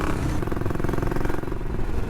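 A motorcycle pulls away close by, its engine running steadily with a throbbing, revving drone that stays loud for the full two seconds, with no talking.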